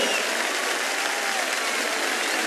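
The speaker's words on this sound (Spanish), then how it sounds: "Fuerte ese aplauso" Steady applause from an audience for a folk singer receiving a career award at the Cosquín festival in Argentina, dense continuous clapping held at an even level throughout, with no voices over it.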